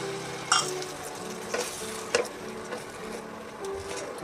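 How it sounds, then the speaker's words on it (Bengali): Fried pointed gourd sizzles in a pan as a little water is added from above, a steady crackle broken by a few sharp spits and stirring taps, close and fairly quiet. "পটলগুলো দিয়ে অল্প একটু ওপর থেকে"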